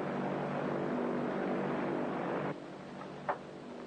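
Steady droning propeller airplane engine heard from inside the cabin in a 1935 film, loud and constant before dropping suddenly to a quieter hum with a brief knock.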